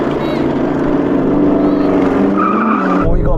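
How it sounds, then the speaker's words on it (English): Audi R8 launching hard in a drag race against a Porsche Cayenne GT, a loud roaring engine with tire squeal close by, rising and then cutting off near the end. "I just want to launch this car again because it's so much fun."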